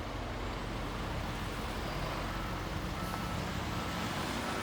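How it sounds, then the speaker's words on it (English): A dump truck backing up at a road construction zone, its reversing beeps sounding over a constant rumble of heavy engines and roadway noise, steady and moderately distant. "And that dump truck is backing up."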